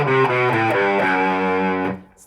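A distorted electric guitar plays a short, dark lick in the Locrian mode: a run of sustained, overdriven notes played alone and up close, ending abruptly after about two seconds.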